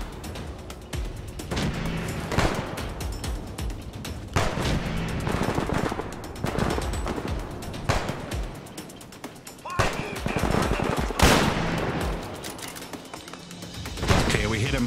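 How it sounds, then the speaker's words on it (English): Gunfire aimed at a Deathclaw in Fallout 4, repeated loud shots and bursts with mechanical clatter from reloading and handling, set against ongoing combat noise and someone talking. "We're missing every shot on this Deathclaw."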